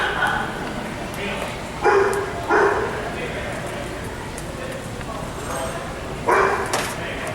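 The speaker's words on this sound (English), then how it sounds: "Yeah, I hear a dog too, Joe." A dog barks outdoors in short separate bursts, a few yips spaced apart, fairly distant, with birds around and faint background noise between the barks.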